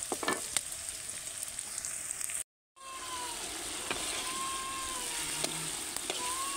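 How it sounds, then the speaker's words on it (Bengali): Chopped onion fries in a pan over a rooftop stove, a moderate, even sizzle with scattered crackles and a brief dropout partway through, with no talking. "এই যে এখন পেঁয়াজ কুচি দিয়ে দিছি।"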